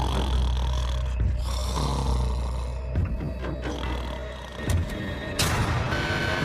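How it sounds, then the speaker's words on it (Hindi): A man snores through the night, deep rasping breaths rising and falling in a loose rhythm, loud and close, with a few sharper snorts and bursts near the end. "वो स्टूपिड कॉप सारी रात खर्राटे मारता रहा।"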